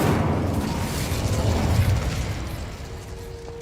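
An Incendio fire spell cast in the video game Hogwarts Legacy gives a loud, dense whooshing roar that holds steady for a few seconds and then slowly fades, with no speech over it.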